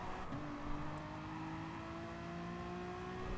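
A Honda NSX Gr.3 race car in Gran Turismo Sport on the Barcelona Catalunya GP circuit, its engine note rising in a steady whining drone as it accelerates, fairly quiet and with no talk over it.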